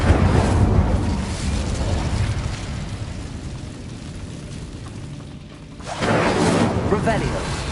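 In the video game Hogwarts Legacy, an Incendio fire spell erupts with a loud roaring burst of flame that swells, settles into a sustained rumble, then flares again, while a voice speaks over it.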